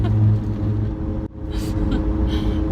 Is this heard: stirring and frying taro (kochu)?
no